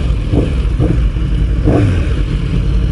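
A decat Yamaha R1 motorcycle sits nearby with its engine running loud and rough, a throaty exhaust rumble with a couple of short rev blips rising over the idle.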